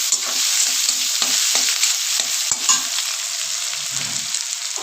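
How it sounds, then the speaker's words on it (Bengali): Boiled apple snails fry in hot oil with turmeric, a loud, close sizzle with brisk spatula stirs and knocks against the pan, settling into a gentler hiss. "সেই গুগলিতে আবার ভেজে নিতে হবে"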